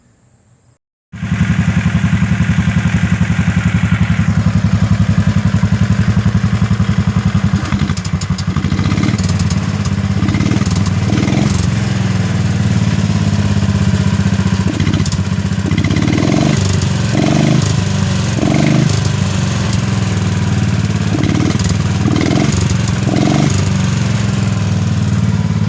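A 1967 Wheel Horse 857 garden tractor engine runs steadily and loud through a ride, starting abruptly after a brief silence, with a constant low drone and periodic rhythmic bursts of mechanical clatter in the second half.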